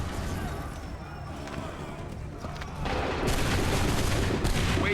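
Musket volleys and scattered gunfire crack across a battlefield in Assassin's Creed 3, a dense, continuous din of shots and booms that grows louder and heavier toward the end, with voices faintly mixed in.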